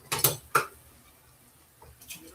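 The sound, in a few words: stirring rice in a pot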